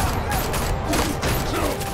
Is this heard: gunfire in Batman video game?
yes